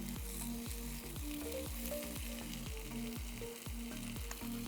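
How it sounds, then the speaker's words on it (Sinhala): Coated chicken pieces fry in shallow oil, turned from side to side, with a steady close sizzle and crackle running the whole time. Some repeating tonal sounds also run underneath. "මේ වගේ ඒ පැත්ත මේ පැත්ත දවටිමින් බදින්න"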